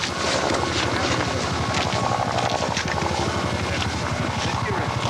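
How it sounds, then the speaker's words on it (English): A distant helicopter's rotor thumps steadily under a constant, noisy rumble, with faint chatter in the background. "You hear a helicopter off in the distance there."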